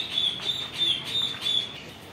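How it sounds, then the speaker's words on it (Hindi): An Eclectus parrot at a dairy or aviary gives a run of five loud, harsh, evenly spaced squawking calls, close by and repeated in a steady rhythm, with no voices over it. "यहाँ पे है एलेक्टस तोता"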